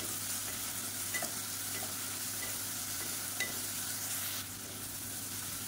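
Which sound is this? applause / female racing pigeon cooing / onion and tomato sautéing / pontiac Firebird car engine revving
onion and tomato sautéing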